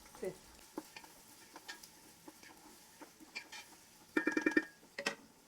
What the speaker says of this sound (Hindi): जब तक हमारे अनियंस फ्राई हो रहे हैं